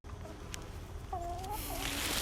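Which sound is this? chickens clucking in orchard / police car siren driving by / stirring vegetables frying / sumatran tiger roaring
chickens clucking in orchard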